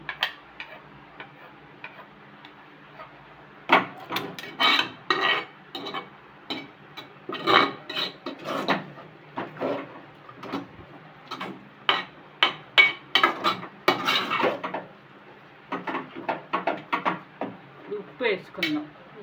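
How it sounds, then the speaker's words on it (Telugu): A dal masher stirs gongura leaves in a pot in a rural kitchen, giving a long series of close, rhythmic knocking and scraping strokes against the vessel after a quieter start, with no talk. "ఒకసారి పప్పు గుత్తితో గోంగూర తిప్పుకుందామా?"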